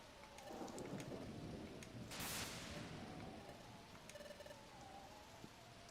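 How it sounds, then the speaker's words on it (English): Video game thunderstorm from Pokemon Mystery Dungeon: Explorers of Time, with steady heavy rain and a loud thunder crack near the middle, continuing rain and rumble afterward, no talking. "Oh, that's the storm."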